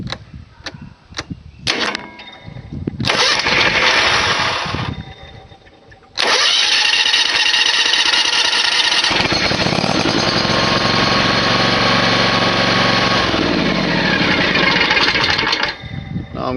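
A lawn mower engine, turned with a key and powered by a Foxpeed G29 portable jump starter, cranks in rapid bursts, falters, then catches and runs at a loud, steady idle nearby.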